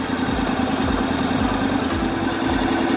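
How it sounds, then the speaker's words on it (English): Honda DCT motorcycle engine idles with a steady, close, loud rumble and even mechanical throb, no voices heard. "Start the bike."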